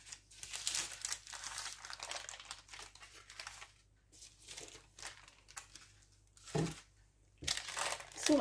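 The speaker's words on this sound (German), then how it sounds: "die lege ich jetzt mit diesem Papier aus" Baking paper crinkles and rustles as a baking plate is lined for a honey cake, in several close bursts of crackling with brief pauses between, no talk over it.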